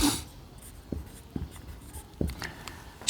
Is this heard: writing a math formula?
yes